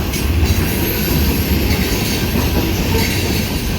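A freight train hauling old boxcars, among them a Detroit & Mackinac car, rolls past up close with a loud continuous rumble, clickety-clack of the wheels and faint squealing.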